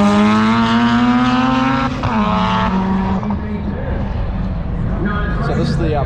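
Car launching in a roll race at a racing event, its engine loud and close as it revs up sharply, then shifts and fades away with a rising whine and tyre noise.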